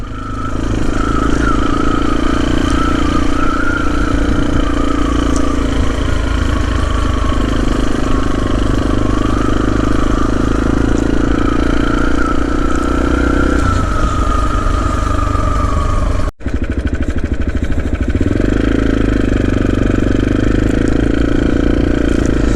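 A steady motorcycle engine drone on narrow country lanes runs continuously, close and loud, with a brief dropout partway through before the rumble resumes at the same level.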